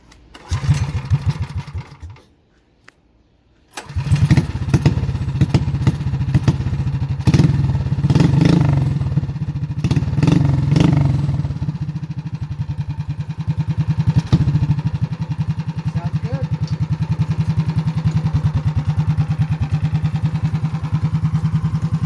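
Tillotson 212cc small engine with an aftermarket muffler and removed governor, stage 1, coughing briefly, pausing, then catching and running steadily with a loud, buzzing idle that swells in a few revs.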